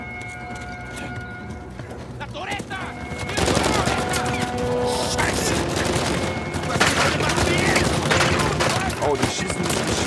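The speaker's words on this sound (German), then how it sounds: "Oh, die schießen ja. Die schießen ja hier alles kaputt." Rapid bursts of gunfire crackle through a busy Uncharted 4 game soundscape, growing louder partway through, with a voice talking over the action.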